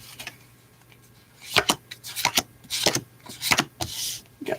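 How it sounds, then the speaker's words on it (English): A deck of tarot cards shuffled by hand, crisp riffling bursts and soft slides repeating in irregular rhythm, close and clear over a faint low hum. "So let's keep shuffling."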